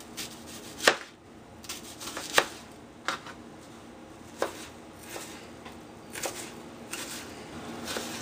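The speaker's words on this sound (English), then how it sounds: "And just start slicing." An onion being sliced with a knife on a cutting board, a series of sharp, irregular chops close up, some louder than others, with quiet gaps between and no talking.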